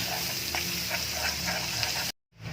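Garlic and ginger sauté in a pan with a steady close sizzle and a few light stirring taps, cutting off abruptly near the end before a faint hiss returns.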